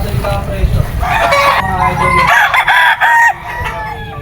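An SBR straight-comb gamefowl rooster, about nine months old, crows loudly and close, a long harmonic call in the middle of the clip, over background chatter and low rumble.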